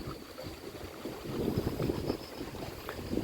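Strong wind buffets a riverside fishing spot on a rainy morning, a steady roaring rush with gusty swells and no talk.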